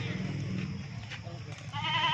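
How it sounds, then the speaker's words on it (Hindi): A Rajanpuri goat at a livestock sale gives a short, nasal bleat near the end, close by, over a background of steady ambient noise and low voices. "ये देखिए एक नंबर बकरा आ रहा है"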